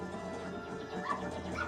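A dog barks and whimpers in the Zelda Majora's Mask video game, short yips and barks over a steady, dense game soundtrack at moderate level.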